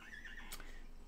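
A horse neighs in the fantasy game Albion Online, giving a short, clear whinny with a rising and falling pitch. It stands alone and quiet, with no talk around it.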